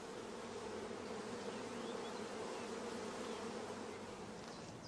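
Honeybees from a shook swarm buzz steadily inside a closed hive body, a dense, continuous hum that stays even and faint throughout.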